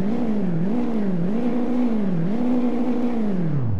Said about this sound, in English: I love how the turbo spools up. Take a little. We'll do some revs.